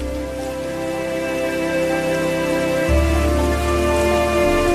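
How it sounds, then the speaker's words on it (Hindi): Heavy rain in an animated Hindi story, a steady dense hiss of downpour, loud and continuous throughout with a music bed running underneath, no talk. "बाहर तेज बारिश है"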